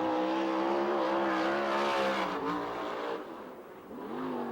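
A USAC/CRA sprint car laps the dirt oval at Perris, California, its engine roaring loud and steady with rising and falling revs, easing briefly before pulling hard again.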